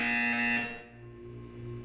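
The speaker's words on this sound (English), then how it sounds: "You will hear a buzzer. When you hear the buzzer, look down at the floor." An electronic buzzer from the Portal 2 video game, a loud, harsh, steady tone lasting about half a second and then fading away, with no voices over it.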